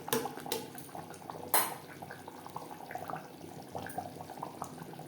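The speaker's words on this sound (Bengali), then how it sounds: "দিয়ে দেবো জল।" Water poured into a pot of mutton being cooked down for biryani, with a bowl of marinade water added, giving soft splashing, clinks of metal and a sharp clatter near the middle, close and moderately loud.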